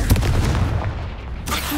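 A Confringo spell blast from the Hogwarts Legacy video game, a loud booming burst with a rumbling low tail that fades out and is then followed by a brighter crackle near the end.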